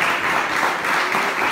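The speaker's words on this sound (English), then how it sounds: "keep that clapping going, y'all" Dense audience applause at a Party To The Polls show, loud and sustained crowd clapping filling the moment.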